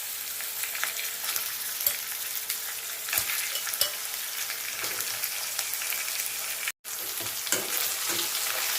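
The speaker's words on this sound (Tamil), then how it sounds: "இப்போ நம்ம சிக்கனை சேர்த்துக்கலாம்" Chicken frying with sautéed ginger and garlic in a pan for a pepper fry, a dense continuous sizzle with occasional sharp clicks of the utensil and one abrupt brief cut-out.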